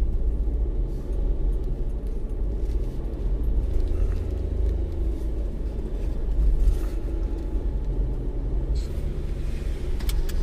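A car cruises along a seaside road, a steady low rumble of engine and tire noise from inside the cabin, continuous and even throughout without talk.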